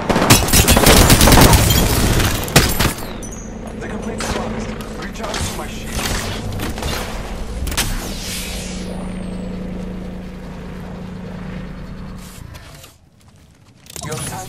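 Weapons firing in the video game Apex Legends: loud, dense rapid bursts crowd the first few seconds, then give way to a quieter sustained rumble and tone that cuts out near the end.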